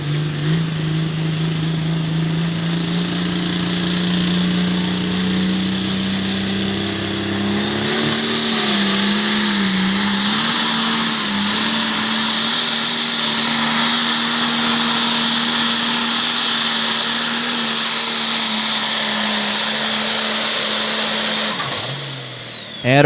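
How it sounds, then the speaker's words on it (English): An International 966 light pro stock pulling tractor makes a full pass at a tractor pull, its engine droning loud and steady under load for about twenty seconds, the pitch climbing once partway through before it cuts off abruptly at the end. "the Teacher's Pet machine laying down a nice solid pass"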